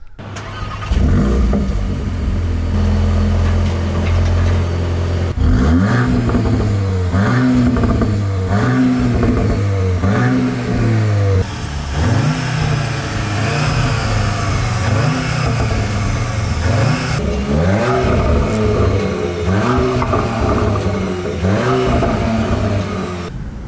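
2024 Audi S3 and RS3 engines revving, a loud string of blips that rise and fall again and again, then a sustained roar, with no voices.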